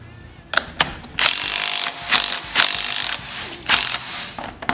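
A ratchet wrench tightens a bolt on a Tecumseh small engine during a rebuild, with several quick close bursts of rapid clicking pawl ratcheting separated by short pauses and no talking.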